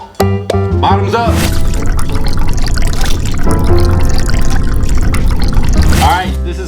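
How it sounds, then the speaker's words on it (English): Thick gunk glugs and trickles out of upturned plastic toy tubes, a steady wet pouring stream running for several seconds with a few knocks and clatters of the tubes at the start. "now we gotta pour out the gunk"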